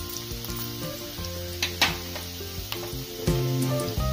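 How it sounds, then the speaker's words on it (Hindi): Onion with ginger and garlic fries for chicken curry in a loud, steady, close sizzle, broken by a few sharp clinks and scrapes of a spoon against the pan, with no one speaking. "प्याज थोड़ा फ्राई हो गया है, अब इसमें हम अदरक,"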